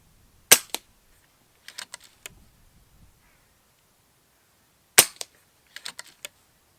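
An FX DRS Classic FAC .22 air rifle with a 600mm barrel fires two sharp, loud shots about four seconds apart, each followed by quick mechanical clicks and clacks of cycling, with no talk.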